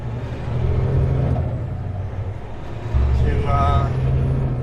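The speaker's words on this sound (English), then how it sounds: "We just idled it a little bit" Semi truck diesel engine idling on a hot day, a steady low rumble that swells slightly partway through, with faint background noise and a brief higher whine near the end.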